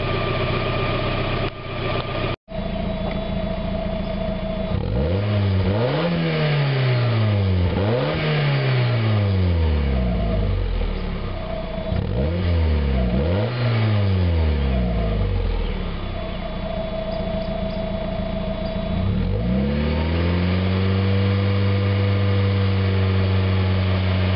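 A 1991 Mazda Miata MX-5 engine, warming up after a catalytic converter replacement, idles steadily up close, rising in several revving sweeps before settling back to a low, even hum.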